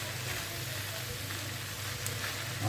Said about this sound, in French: voilà les choux qui sont en train de cuire